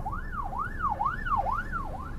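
An ambulance siren sweeps steadily up and down in a repeating rise-and-fall pattern, clear and continuous over low background rumble.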